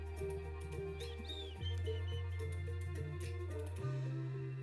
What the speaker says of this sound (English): Catch the bird.